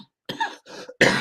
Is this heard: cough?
yes